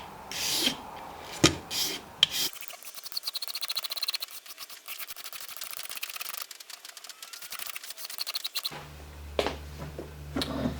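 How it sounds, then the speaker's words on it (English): A razor blade scraping old glue off the neck of a broken acoustic guitar during repair, dense rapid rasping strokes at close range, with a few sharper scrapes before and after. "I'm scraping the old glue off the neck with a razor blade and getting it cleaned up, ready to re-glue the fretboard."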